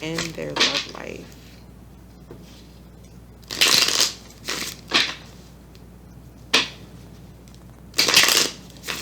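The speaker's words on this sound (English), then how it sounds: "let's just pull some more cards" Tarot cards being shuffled and pulled, a few crisp riffling bursts and card slaps in irregular spurts, close by, with a person speaking softly at the start.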